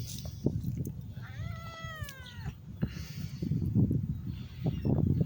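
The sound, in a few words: old cat meowing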